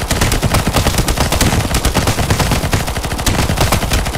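Loud, rapid automatic gunfire from Counter-Strike: Global Offensive in zombie escape mode, dense bursts of shots rattling nonstop while a boss is being fired on.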